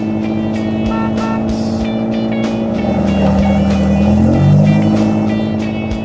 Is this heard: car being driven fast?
yes